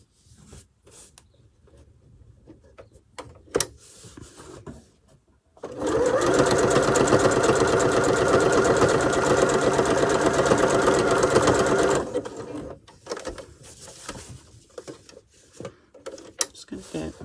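A sewing machine runs loud and steady for about six seconds, stitching a scrap fabric journal pouch, with quieter handling clicks and rustling of fabric before and after.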